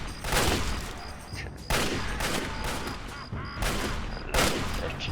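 Shotgun blasts in the video game Fallout 3: four loud, sharp reports spaced about a second apart, each trailing off briefly before the next.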